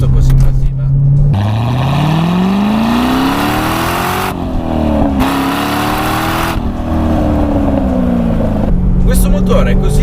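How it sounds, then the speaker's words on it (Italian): Corvette C6 engine with a six-speed manual pulls hard from low revs, its deep exhaust note rising steadily through a gear, dropping at a shift and climbing again, loud and close from inside the car with a voice talking over it. "a 2000 giri sento il motore che riesce a offrire subito tanta coppia e potenza"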